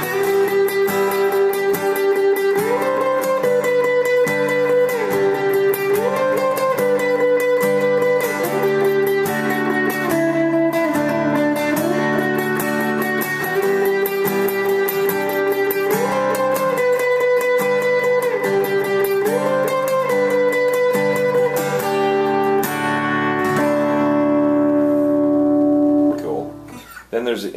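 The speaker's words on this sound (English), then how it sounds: "This is that pattern that Greg will be playing on the chorus" Guitar strums the chorus pattern of a song, a steady sustained chord progression played loud and alone, fading out at the end.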